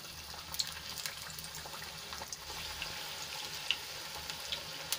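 Bajra methi farsi puri fry in hot oil with a steady, close bubbling sizzle and scattered small pops and crackles throughout.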